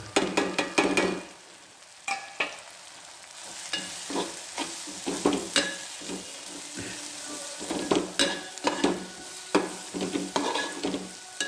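Masala is stirred into ridge gourd bhaji frying in a pan, with a constant close sizzle and repeated scraping, clattering strokes of the spoon against the pan throughout.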